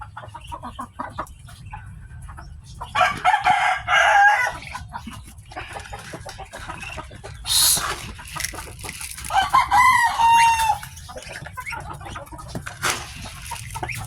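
Chickens cluck and a rooster crows as chickens and ducks are fed, over a low steady background, with clucking bursts and a few higher squawks scattered throughout.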